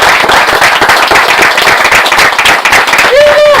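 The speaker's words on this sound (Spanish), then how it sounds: "Démosle un fuerte aplauso a Pancho Ortega." Loud, dense audience applause for Pancho Ortega at a forest-setting talk about Antarctica, steady clapping filling the whole stretch, with a brief whistle near the end.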